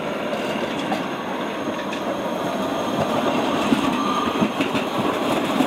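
A Škoda 13T tram in advertising livery passes on a street in Brno, with a steady rumbling roll, wheel clatter and faint squeals. It is fairly loud and continuous, and no one speaks.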